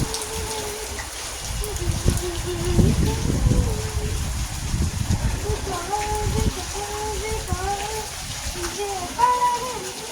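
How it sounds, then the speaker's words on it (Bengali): Heavy rain from Cyclone Remal drums on a rooftop in a steady, dense wash of noise, with faint voices murmuring underneath. "আমরাও ছাদে আছি জোরে বৃষ্টি নামছে"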